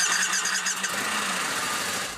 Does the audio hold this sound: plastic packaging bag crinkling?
no